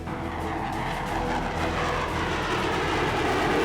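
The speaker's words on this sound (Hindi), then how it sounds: "ये सुरमई रंग का विमान इजरायल का F-15 फाइटर जेट है।" An Israeli F-15 fighter jet, grey in colour, roaring steadily overhead with a loud, unbroken engine rumble and hiss that builds slightly toward the end.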